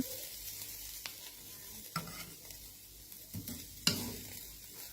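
Fish meat mixed with egg is stir-fried in a pan, soft sizzling under scraping strokes of a spatula, with a few sharper clanks against the pan, close and fairly quiet.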